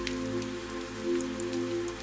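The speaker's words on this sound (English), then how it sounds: "the view still felt unreal" Rain falls during a night drive on a rainy highway, a steady patter of drops over a constant low engine and road hum inside the car, with no talking.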